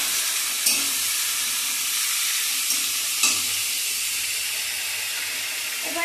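Chopped, washed potatoes fry in a pan, a steady close sizzle and hiss with a few soft stirring scrapes, no talking.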